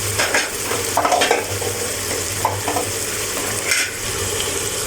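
Salt, chili powder and turmeric are stirred through in a hot pan, producing a steady close sizzle broken by a few scraping, rustling strokes of the spoon; no speech.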